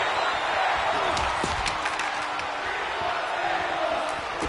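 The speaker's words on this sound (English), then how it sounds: "the crowd yelling, "We want tables here tonight."" Wrestling event crowd at a WFA Valentine's Day show yelling and chanting for tables, a dense, steady roar of many voices filling the arena with occasional sharp accents, loud and continuous throughout.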